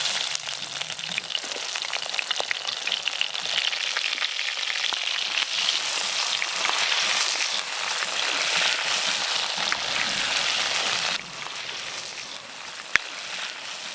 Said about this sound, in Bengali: কাঁকড়া ভাজার জন্য তেল গরম হয়ে গেছে